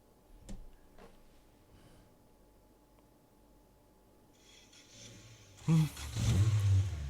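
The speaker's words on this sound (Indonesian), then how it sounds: "Ini mobil sih, Mobilnya ini iya, legend, legend. Toyota AE86." A Toyota AE86 engine revs up sharply near the end, loud and close, after a few seconds of quiet background with faint ticks.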